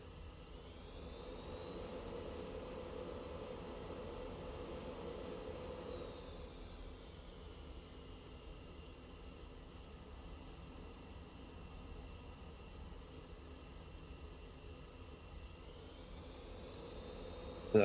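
F-16 jets taking off in the Falcon BMS 4.37 flight simulator, a steady, moderately loud jet-engine roar with a high whine that holds level and then shifts downward partway through, continuous with no talking.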